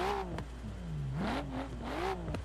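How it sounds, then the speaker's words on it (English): Nissan R33 Skyline exhaust in Forza Horizon 4 revving up and down in repeated sweeping surges, loud and close, with rises and falls in pitch and sharp crackles between pulls, no voices. "Listen to this exhaust."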